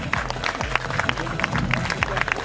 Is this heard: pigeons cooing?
no